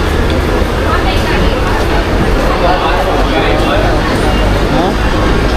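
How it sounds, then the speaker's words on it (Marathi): A crowded Mumbai local train pulling out of Govandi station on a rainy morning, a loud, steady rumbling roar with rattling carriages heard from inside, voices faintly mixed in. "आता फायनली आपली ट्रेन गोवंडी स्टेशनवरून डिपार्चर केलेली"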